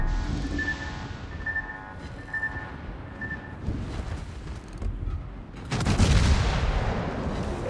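Naval gunfire from a Tier 7 battleship engagement in World of Warships, with booming salvos and rumbling blasts over a steady mechanical hum; a heavier burst of cannon fire swells near the end.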